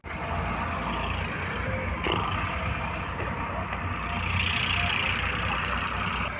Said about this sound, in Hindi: दोनों ट्रैक्टर चल रहे हैं साथ साथ